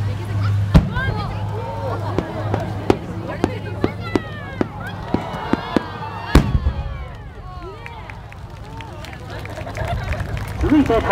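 A Nomura Fireworks display from Ibaraki at the Kamakura Fireworks Festival sends rockets whistling upward and sharp bursts popping in an irregular series, with one heavy boom midway, under crowd noise and talk.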